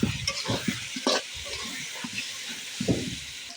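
Fried meat with green chillies sizzles in a pan for chicken biryani while a spoon scrapes and stirs in several distinct strokes, the steady hiss of oil running underneath.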